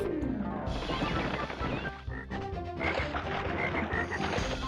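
A frog croaks amid busy game sound effects and music in Crash Warped, the croaking mixed into a dense, loud layer of splashes and jingles.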